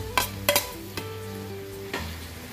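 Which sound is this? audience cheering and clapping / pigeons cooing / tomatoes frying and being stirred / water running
tomatoes frying and being stirred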